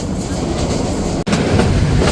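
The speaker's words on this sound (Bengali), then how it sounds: "একদিকে অসাধারণ গতি একদিকে ট্র্যাক সাউন্ড" The Sagarika commuter train runs on the Chandpur–Chattogram line on a late afternoon, a loud, close, steady track roar with rhythmic wheel clatter and one brief dip.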